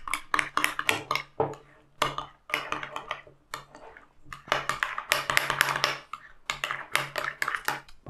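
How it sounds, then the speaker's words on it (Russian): Homemade cheese sauce spiced with sriracha is stirred briskly in a pot, a quick run of clinking and scraping utensil strokes with short pauses between bursts. "И все, перемешиваем."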